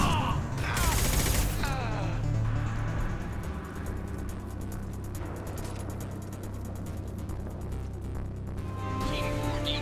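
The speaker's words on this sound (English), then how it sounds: "Hostiles ahead, watch it. Firing now." Sustained automatic gunfire in a firefight in Mass Effect 2, rapid repeated shots rattling over a low rumbling background, with voices speaking near the start.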